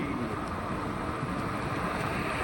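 A steady, loud engine drone with rushing wind noise, like a scooter moving along, continuous throughout with no talking.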